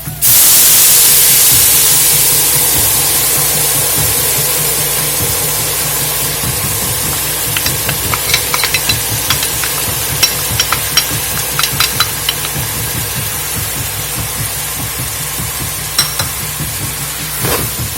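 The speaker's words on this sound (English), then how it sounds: "And then I'm adding 1 cup of coconut cream" Coconut cream hits a hot pan of quinoa and black beans with a loud hissing sizzle that slowly settles into steady frying, a spoon clicking and scraping now and then.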